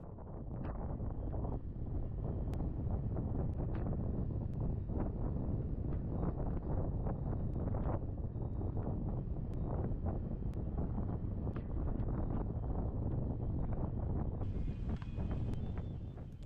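Strong wind roars steadily across the microphone during foil windsurfing with a small sail, a loud, unbroken rush with no voices over it.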